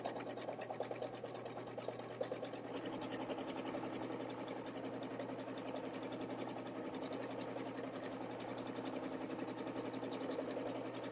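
A domestic sewing machine stitches with Aurifil 40wt thread, a steady rapid mechanical whir and needle chatter running evenly throughout, close and moderately quiet, with no talking.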